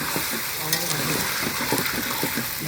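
Chicken leg pieces being sautéed for biryani give off a loud, continuous sizzle heard up close, while a voice talks over the cooking throughout.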